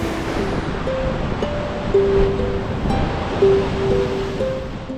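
Ocean waves surge and break against a rocky cliff edge at Spray Point, a steady roaring wash of surf close by with low tonal hum threading through.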